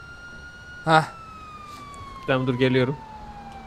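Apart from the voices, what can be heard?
police car siren in video game GTA 5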